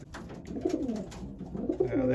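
Racing pigeons coo in soft, repeated rising-and-falling phrases at close range, with a few overlapping calls and a steady low murmur from a loft where the birds are pairing up.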